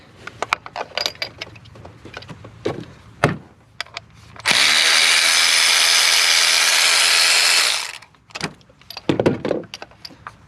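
A ratchet removing a spark plug, heard as quick bursts of close metallic clicking before and after a loud, steady power-tool whir that lasts a few seconds.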